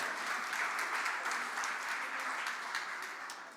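A comedy-show audience claps in sustained applause for performers, a dense, steady patter that holds fairly even before tapering slightly at the end.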